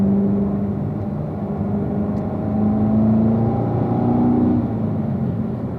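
A race car accelerates out of a corner as the driver eases onto the throttle, its engine holding a steady, loud drone that rises slightly in pitch and strength midway, with no talk.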